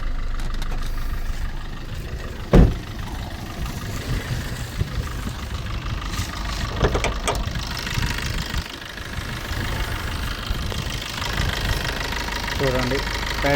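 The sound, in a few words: Maruti Suzuki Swift Dzire engine running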